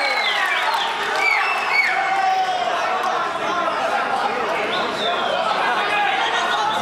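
An arena crowd at an NFC fight night, Ramin Nabizada against Elyse Shkizada, cheers and chatters continuously, with scattered whoops and high shouts rising over a dense, steady roar from start to finish.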